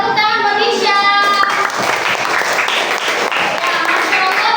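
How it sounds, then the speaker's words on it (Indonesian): A classroom of students applauding a classmate, a busy patter of many hands close by, with a teacher's voice speaking over the start of the clapping. "tepuk tangan buat Hisham"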